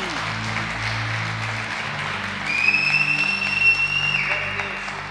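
Church congregation applauding during a Portuguese-language sermon at A Casa Church, a steady wash of clapping with sustained organ or keyboard tones underneath and a brief whistle-like cheer rising midway.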